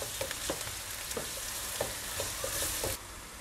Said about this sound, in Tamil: இது பச்சை வாசம் போகிற அளவுக்கு வதக்கிக்கலாம்.